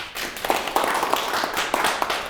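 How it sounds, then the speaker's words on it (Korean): Lecture audience claps again, a short patter of scattered hand claps at moderate volume, uneven and fairly close, with no talking over it. "박수 한 번 더 주고."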